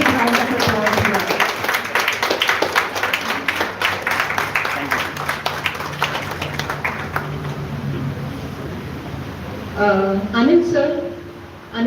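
An audience at a live life-saving skills workshop claps in a brisk, dense burst that thins out over several seconds, after which a voice speaks into a microphone.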